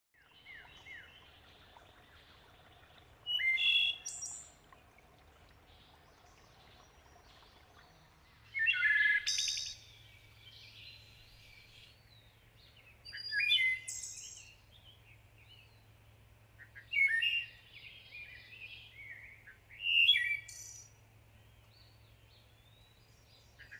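Woodland bird song with eerie, flute-like tones, the bird producing two sounds at once; five bright, separate phrases ring out at regular intervals over a quiet background, fairly near and clear.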